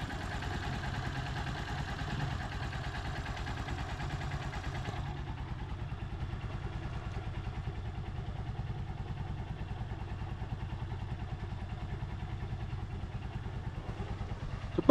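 A Honda Supremo motorcycle engine idles steadily up close, with an even, rapid low putter and light mechanical clatter that continues unbroken, ending with a brief knock.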